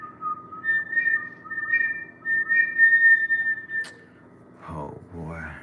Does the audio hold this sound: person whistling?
yes